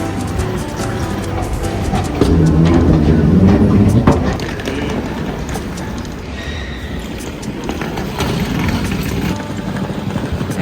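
A train at a UK airport station rumbles steadily with a broad, loud roar, swelling briefly and then settling into a continuous hum and rattle.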